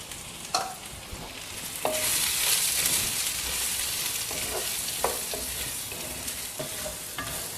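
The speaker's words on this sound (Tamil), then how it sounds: "அடுத்தது எள்ளையும் சேர்க்கிறேன்." Sesame seeds and roasted peanuts frying and being stirred in a pan for kovakkai curry, a steady close sizzle with sharp scraping strokes of the spoon at irregular intervals, no voices.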